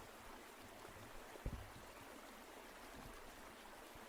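A trickling water stream plays as a soft, continuous babbling murmur under a livestream, faint and steady, with one brief low thump partway through and no voices.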